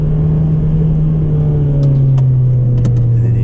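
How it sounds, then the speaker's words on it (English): A 2009 Honda Civic Type R FN2 engine holds a loud, steady high-rev drone from inside the car, pitch easing slightly downward, with a few faint clicks over the hum. "you can really hear the VTEC, that's for sure"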